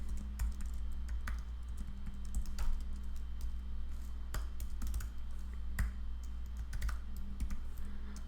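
Typing on a computer keyboard during a programming session, a close, steady patter of key clicks with occasional sharper strikes over a low electrical hum, no voices.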